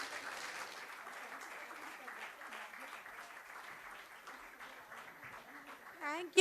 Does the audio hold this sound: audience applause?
yes